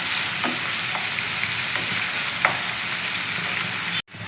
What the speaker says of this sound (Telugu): అది పచ్చి వాసన పోయేదాకా ఇలా కొంచెం వేపిస్తున్నాం